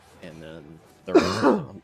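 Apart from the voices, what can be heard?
cough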